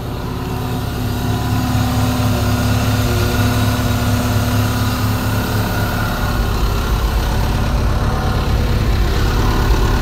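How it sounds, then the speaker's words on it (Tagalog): A heavy excavator engine, a Hitachi EX120-3, idles roughly and continuously close by, its low rumble uneven and sputtering as it misfires, with low power. "Oh, mga palya makina."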